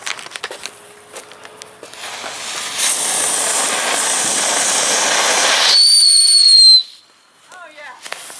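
A wheeled Black Cat rocket firework goes off with a loud, steady roaring hiss that lasts several seconds, then shifts into a shrill descending whistle and stops abruptly, leaving faint sounds afterward.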